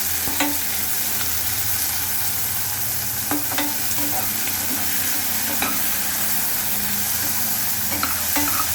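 Shallots frying in oil with salt in a pan as the base for a peppery crab gravy, a steady loud sizzle broken by occasional scrapes and clinks of a spoon stirring.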